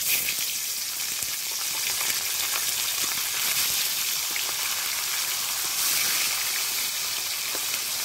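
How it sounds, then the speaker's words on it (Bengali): Pieces of chitol fish sizzle in well-heated oil, giving a dense, steady crackling hiss with scattered sharper pops and no talking. "তেলটা ভালো করে গরম হয়ে গেছে, এবার মাছগুলো দিয়ে দেব"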